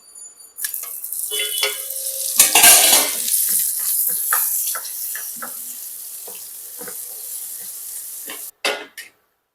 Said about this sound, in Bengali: আমি এরপর বেগুনগুলোকে ভেজে নেব।